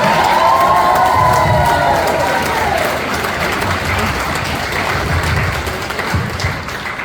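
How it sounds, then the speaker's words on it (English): Wedding guests cheer and applaud together, a loud, dense crowd roar with a whoop rising over it early on, then a steady wash of clapping and cheering that holds through to the end. "I think a round of applause is in order for our absolutely stunning Charlotte looks tonight"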